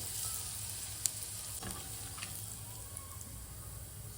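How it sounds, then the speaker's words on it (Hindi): Sesame and poppy seeds sizzle steadily in hot oil for chiwda, a soft, even frying hiss with a few faint clinks, no talking. "ये तिल भी डाल देंगे इसमें और पॉपी सीड्स भी डाल देंगे"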